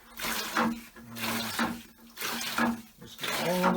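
A SaniBest Pro pump drains water from a bathtub, with splashing and gurgling surges arriving in repeated bursts about once a second, fairly close, no talk.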